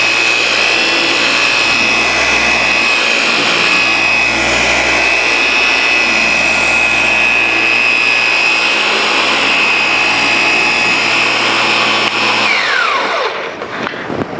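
A dual action polisher runs continuously at full speed as it sweeps quickly across car paint, a loud steady whine with a droning motor hum that winds down at the end, with no talk.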